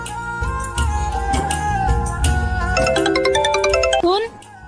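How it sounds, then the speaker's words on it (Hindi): A melodic electronic phone ringtone plays steadily over background music, with rising chime-like tones near the end before it cuts off. "ये तेरा फोन बज रहा है,"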